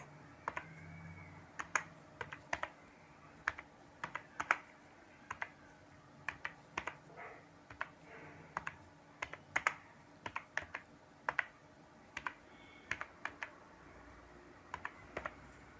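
Computer keyboard typing while HTML code is entered, with irregular bursts of crisp key clicks close up and short pauses between words, fairly quiet and without talk.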